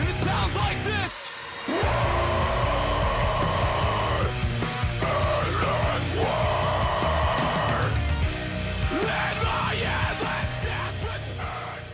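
Metalcore, loud dense distorted guitars and pounding drums with harsh vocals, playing continuously after a brief drop near the start.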